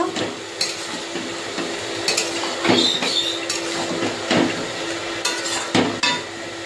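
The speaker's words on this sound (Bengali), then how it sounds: "চিকেনটা দিয়ে এবার ভালো করে কষিয়ে নেব।" Fried chicken pieces stirred and tossed in a pan for a Bengali curry, a rhythmic series of metal spatula scrapes and clanks over a moderate sizzle, close by with no talking.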